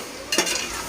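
A brief burst of sizzling and stirring as ingredients sauté in a pan for a biryani, a close hiss swelling suddenly, then holding steady for under a second.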